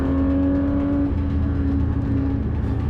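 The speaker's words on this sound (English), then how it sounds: "Nothing beats an acceleration from a naturally aspirated high-revving engine." A 2022 Porsche 911 GT3 RS with a naturally aspirated high-revving engine accelerates at Silverstone Circuit, a loud, steady engine drone with a rising pitch that shifts partway through as it pulls hard throughout.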